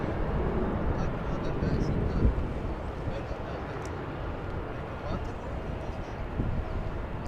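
A WestJet Boeing 737-800 arriving at LAX from Toronto produces a broad, distant engine roar that rumbles steadily under wind noise on the microphone.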